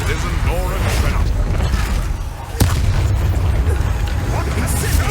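Deep booming blasts and rumbling impacts from the Confringo blasting curse in the Hogwarts Legacy video game, loud and continuous with a sharp crack near the middle, while a voice talks over the combat.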